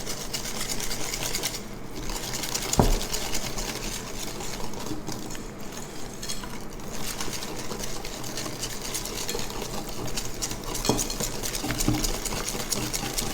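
A hand whisk beats cake mix batter in a bowl, a quiet, continuous scraping and swishing churn that runs steadily throughout with no voices.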